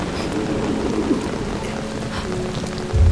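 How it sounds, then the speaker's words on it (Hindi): Steady rain falls in an outdoor evening scene, a dense even hiss with a low thunder-like rumble swelling at the end. "यहाँ बारिश में क्यों खड़ी हो?"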